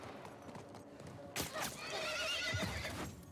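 A horse whinnies loudly in The Last of Us during a flight on horseback, its neigh rising over a steady low rumble with hoof clatter and scuffling following, no talk present.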